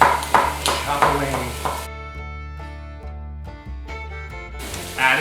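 A knife chops celery on a cutting board, with a quick run of sharp, close taps at the start, then a few scattered cuts under faint background music.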